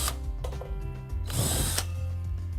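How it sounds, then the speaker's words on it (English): A 2-inch hole saw on a power drill cuts through a plastic bucket lid, whirring steadily before biting in with a louder grinding burst and then settling back to a spinning drone, close up, with no talking. "a 2-inch hole saw drill bit to drill out the holes in the lid of our bucket"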